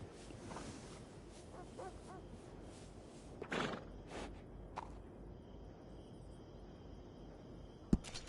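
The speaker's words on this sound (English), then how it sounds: "That's a nice horse." A horse in Red Dead Redemption 2 gives a brief neigh midway, with scattered hoof and footstep sounds over a steady low background and a sharp knock near the end.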